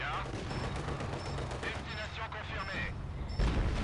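Gunfire and distant booms from the World War II strategy game Company of Heroes 2: a steady crackle of rifle and machine-gun shots, with a heavier thump near the end, under low voices.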